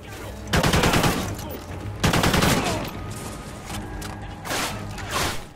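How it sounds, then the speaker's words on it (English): Gunfire in Call of Duty Ghosts, a rooftop firefight with sniper rifles: loud bursts of automatic fire in two or three heavy volleys, close and dense, with quieter shots between. "I'm getting shot from absolutely everywhere"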